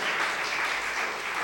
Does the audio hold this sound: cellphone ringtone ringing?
no